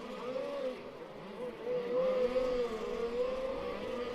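A race car at the Race Car Series Finale in Bad Breisig 2025 overtakes during the finals, giving a steady, droning engine whine that rises slightly in pitch as it passes at moderate distance.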